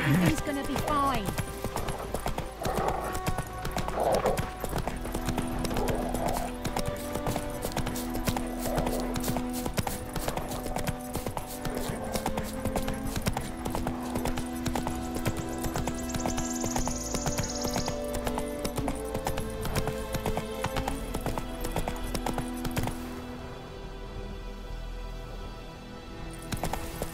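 A horse gallops in The Witcher 3 video game, its hooves drumming steadily under a game soundtrack and voices, with a brief whinny, before the sound fades near the end.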